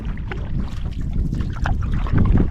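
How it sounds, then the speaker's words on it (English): A steady south wind gusting across open water near a canoe, a broad continuous rush with low rumbling buffeting close to the microphone, rising slightly toward the end, no voices. "That's a south wind, more or less. Been battling it all day."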